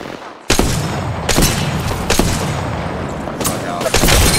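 Gunfire in the Apex Legends video game, several sharp loud shots or bursts at uneven intervals over a dense, busy game soundscape.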